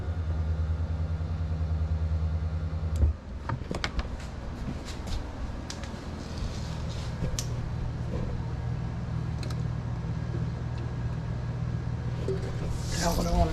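The engine of an abandoned Toyota Supra, unstarted for 12 years, is bumped over with a steady low mechanical drone, a sharp clunk, then a continuing rumble while people talk nearby.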